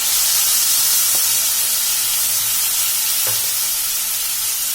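Onion, tomato and green chilli sauté in a hot pan with a loud, steady close-up sizzle and hiss, broken by a couple of soft spoon scrapes as the mixture is stirred.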